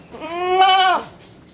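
A young goat kid about two and a half months old gives a single clear, nasal bleat lasting under a second, close and alone against a quiet background.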